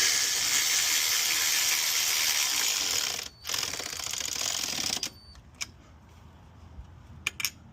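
A ratchet wrench clicks rapidly and steadily while tightening bolts on an aluminum intake plenum spacer of an Infiniti G35. The clicking breaks off, followed by a few sparse, separate clicks near the end.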